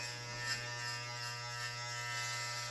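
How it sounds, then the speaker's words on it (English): Electric hair clipper buzzing in a steady, continuous drone from start to end at close range, with fans faintly in another room and no talking. "I don't want a bunch of background noise aside from this clipper"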